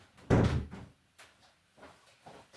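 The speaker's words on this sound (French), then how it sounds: "je vais fermer ma porte" An indoor door is pushed shut with one firm, close thud, followed by a few faint, scattered bumps and rustles in a quiet room.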